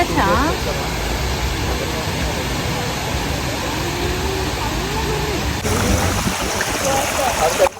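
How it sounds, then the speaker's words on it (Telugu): A shallow stream washes over bare feet, a loud, steady broadband rush of flowing water that runs throughout with people talking over it. "కాళ్ళు నుంచి ఇలా వాటర్ ఫ్లో అవుతుంటే మంచిగా ఉంది"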